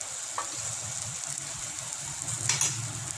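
Mushroom masala sautés in a pan with chili, turmeric, garam masala and other spice powders, a steady soft sizzle with occasional stirring scrapes, close and without talk.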